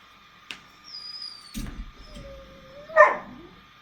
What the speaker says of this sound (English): Sorry about my dog in the background there.